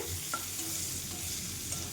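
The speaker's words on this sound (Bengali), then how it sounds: "তো এই যে করলাগুলো ভেজে নিই" Steady oil sizzling from frying bitter gourd slices, constant and close, with faint stirring scrapes.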